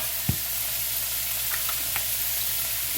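Broccoli, peppers and onions stir-frying in a pan with complete seasoning, giving a steady close sizzle with a brief utensil clink near the start and light scraping, no talking.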